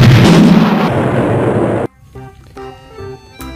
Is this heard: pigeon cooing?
no